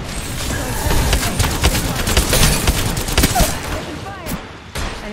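Rapid bursts of gunfire from the Apex Legends video game, dense and loud, with repeated volleys overlapping background game noise and occasional voice lines throughout.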